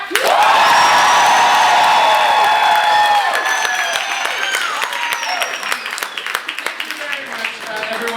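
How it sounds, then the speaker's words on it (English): Comedy theatre audience cheering and applauding loudly during a live improv debate show, with whoops and shouts over sustained clapping that gradually thins out, voices calling out through the noise. "if you prefer bagels to toast, please cheer now"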